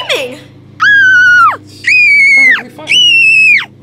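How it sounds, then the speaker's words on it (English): A girl lets out three loud, sustained high-pitched screams in a row, each about three-quarters of a second long with brief pauses between, heard close up over a low background hum. "Why are you screaming?"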